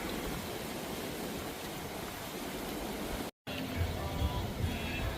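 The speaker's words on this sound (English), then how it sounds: "you can actually hear the ocean waves from here" A continuous broadband wash of ocean surf heard from a resort, steady and fairly loud, with a brief cut to silence partway through.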